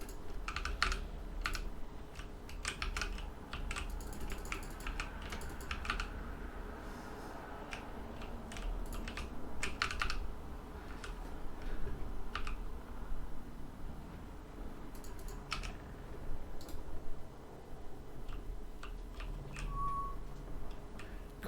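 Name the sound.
computer keyboard typing while playing World of Warcraft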